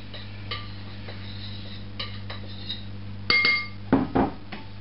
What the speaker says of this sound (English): Okay, now mix the dry ingredients up.